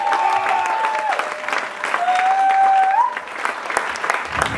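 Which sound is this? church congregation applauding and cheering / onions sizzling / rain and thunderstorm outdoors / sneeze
church congregation applauding and cheering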